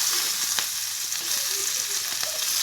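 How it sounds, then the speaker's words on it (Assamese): Onions hiss and crackle in hot oil in a pan where fish has just been fried with mustard for an Assamese curry, a loud, dense sizzle close by with faint stirring scrapes over it. "এয়া মই এতিয়া পিঁয়াজ দি দিছোঁ"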